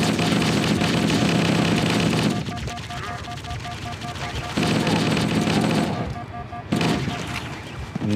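Battle rifle fire in Halo plays loud and continuous in rapid bursts, with short gaps where the level drops. Game action and effects stay busy throughout, and no voice comes through.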